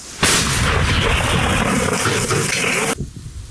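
A single heavy artillery blast, a loud broadband roar that sustains for nearly three seconds before cutting off into quieter rumble.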